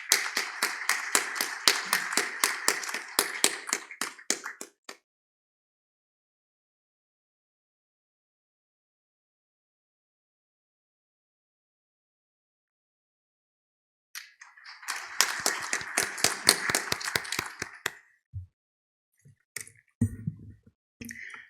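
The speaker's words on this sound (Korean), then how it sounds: "모두 큰 박수로 맞이해 주시기 바랍니다" A burst of applause from a crowd at a formal symposium ceremony, fading out, then a long silence before another round of clapping swells and tapers off.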